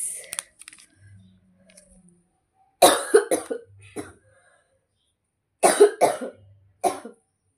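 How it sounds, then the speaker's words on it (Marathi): Two loud clusters of harsh, close coughing, each a quick series of hacking bursts, separated by near silence with faint quiet sounds between. "खोकला झाला"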